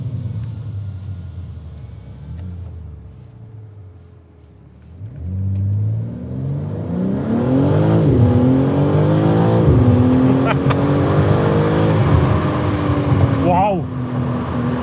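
A BMW M3 Competition, heard from inside, starts with a low idle, then surges into a loud full-throttle rush as the engine climbs through rising revs with gear changes, while a voice speaks over it.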